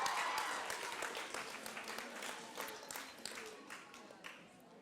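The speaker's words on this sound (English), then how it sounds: "Can we get another round of applause for them?" Applause for school teams finishing a 20-minute Minecraft speed build at an interschool challenge, a crowd clapping steadily and fading gradually, with faint voices beneath.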